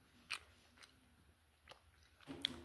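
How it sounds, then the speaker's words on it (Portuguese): Watermelon bubble gum being chewed up close, with a few soft, wet chews spaced out over a quiet background and no talking. "Dá mais uma mastigadinha."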